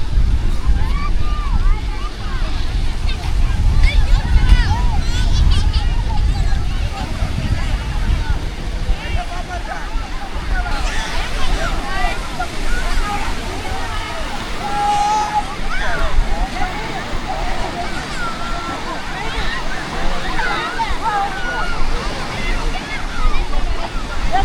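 Surf washing onto the long sandy beach at Ariyaman, lined with casuarina trees, a steady broad roar with wind buffeting the microphone and a voice talking over it throughout.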